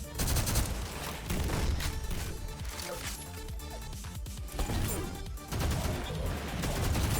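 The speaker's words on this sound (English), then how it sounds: "God, I freaking love the assault rifle" An assault rifle fires in the fast shooter GTTOD: Get To The Orange Door, loud and close in rapid bursts of shots separated by short pauses, running the whole time over game noise.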